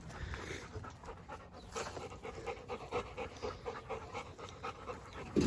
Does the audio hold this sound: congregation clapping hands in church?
no